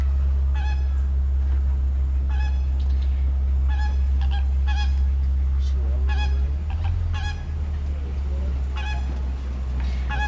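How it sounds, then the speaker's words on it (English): Flamingos honking repeatedly in a rhythmic, chattering series at an animal park at night, over a loud low engine rumble from a moving vehicle nearby. "The flamingos are very talkative right now."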